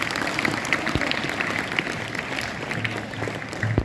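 An audience claps after a stage performance at a Diwali and Chhath celebration, with steady moderate applause from a crowd throughout and no talk over it.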